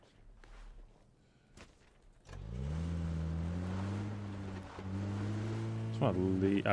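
After a few thuds, a car engine in a video game starts up and idles with a steady low hum, then revs higher near the end.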